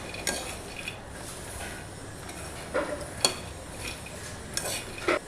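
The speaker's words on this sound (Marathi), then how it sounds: "आता आपण मखाने भाजून घेऊयात" Fox nuts (makhana) roasting in ghee, stirred in a metal pan: sparse scraping and clinking strokes from a spoon over a faint, quiet background, heard close with no talking.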